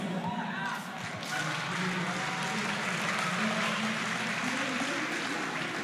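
A live crowd at a StarCraft 2 tournament applauds, a dense steady wash of clapping and cheering lasting several seconds.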